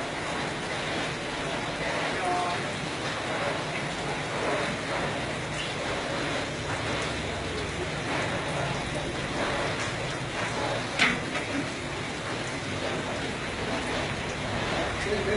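Steady rain falls outdoors, a dense even hiss of drops on surfaces running throughout at moderate level, with one brief louder tap near the end and no clear talk over it.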